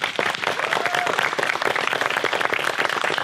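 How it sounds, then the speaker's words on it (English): Wedding guests clap together after the vows at a ceremony, a thick, continuous patter of many hands that stays fairly even and close, with no voices on top. "Give them a clap, please."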